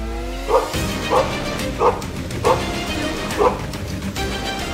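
Kraken, a police dog, barks five times in an evenly spaced series, each bark loud and close, over a steady background hum.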